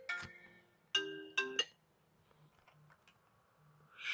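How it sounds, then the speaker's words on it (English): A phone ringtone plays as a short melodic burst, then two more rising chimes follow around the one-second mark, set against a quiet room with faint low hum and no talking. "Sorry about that phone call."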